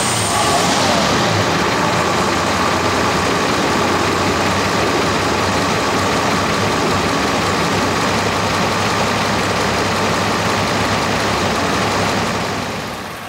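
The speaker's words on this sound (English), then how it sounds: "Let's take a look at the only Marmon V12 engine in existence." A vintage Marmon V12 car engine idles steadily with a dense, rumbling drone that holds for the whole stretch, loud and close, with no talking.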